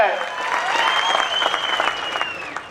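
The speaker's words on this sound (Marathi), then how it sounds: "शिट्ट्या आणि टाळ्या सुद्धा तेवढ्याच वाढलेल्या आहेत" Dense applause and clapping from a large crowd at a political rally in Tuljapur, with whistles sliding through the din, loud and continuous throughout.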